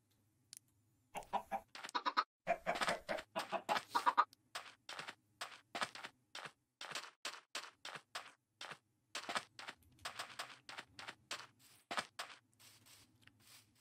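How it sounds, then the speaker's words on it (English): Minecraft chickens cluck in steady, rapid, choppy bursts, close and clear, one after another for several seconds with no talking. "I have multiple pet chickens."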